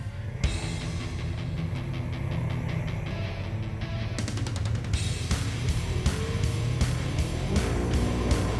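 Several Polaris RZR side-by-sides race across Oregon sand dunes, a loud, steady engine drone with rising revs and repeated rattling clatters from close by, no voices.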